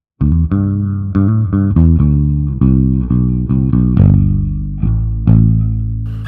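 Bass lines played on an electric guitar through a Helix HX Stomp with a touch of room reverb: a steady run of low plucked notes, each ringing into the next with a slight ambient tail, loud and up close.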